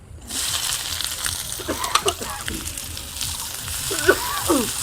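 Chopped onions fry in a pan in a village kitchen, a steady sizzle with scraping stir strokes and clatter throughout, a voice talking over it now and then.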